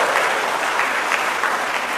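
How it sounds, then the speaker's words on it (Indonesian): A church congregation at a sermon applauds, a loud, close, continuous wash of clapping that stays even for the whole stretch. "Tepuk tangan saja kasih bapak-bapak ini"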